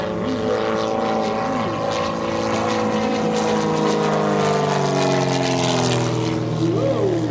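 Aerobatic propeller airplane, a 230-horsepower blue stunt plane, performing at the Westmoreland County Airshow, its engine droning loud and continuous with shifting pitch as it maneuvers, no talk over it.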